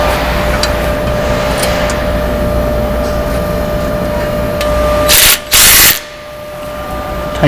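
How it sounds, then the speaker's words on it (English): A power tool whirs steadily while tightening bolts on Draper header wing locks, a continuous motor drone close by with a short louder burst near the end, no speech. "Tighten the bolts up."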